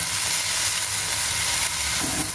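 Onion and chilli frying in a pan, a loud, steady sizzle and crackle that continues without a break and with no talking over it.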